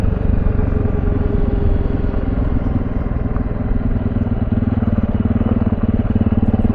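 A small Honda motorcycle engine runs steadily, loud and close, with a continuous throbbing drone and some mechanical clatter throughout and no talking.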